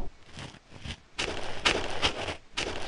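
Footsteps on snow from a Unity game's terrain footstep system, a series of soft crunching steps in an uneven walking rhythm, close and clear with no talking.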